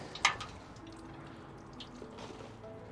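Water trickles from a can onto compost covering freshly sown pea seeds in a tray, starting with a brief sharp splash and then faint, scattered drips and soft pattering.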